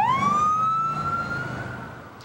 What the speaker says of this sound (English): sirens rang at the downtown connector as hundreds of law enforcement officers escorted the body